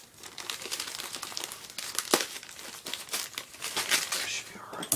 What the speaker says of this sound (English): Cut the paper.